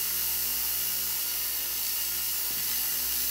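Bare power honing wheel for sharpening carving tools spinning with no compound applied, a steady high whine and hum, close and even throughout with no talk.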